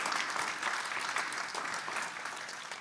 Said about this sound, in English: Can we get a round of applause for MTS and their partnership?